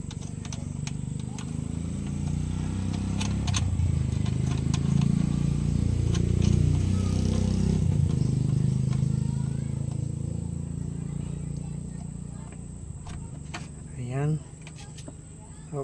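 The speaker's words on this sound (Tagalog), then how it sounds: "medyo maingay mga amigo maraming dumadaan ano sasakyan" Traffic passes on a busy roadside, a continuous low rumble of engines that swells through the middle and fades toward the end, with faint clicks and a brief rising whine near the close.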